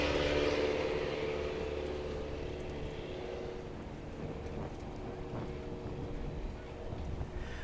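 A STOL aircraft at Swamp STOL practice in Jennings, Louisiana takes off with a propeller engine roar that is strongest at first and then fades to a fainter drone, heard at a distance and quiet overall.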